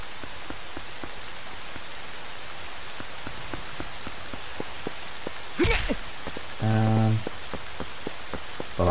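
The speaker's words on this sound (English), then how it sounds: "Maybe that'll stop the rain." Steady rain patters across the whole stretch in Zelda: Twilight Princess HD, a dense hiss of drops on a surface, broken near the end by a brief swoosh and a short tonal game chime.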